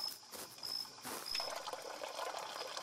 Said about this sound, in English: It's a cursed fountain.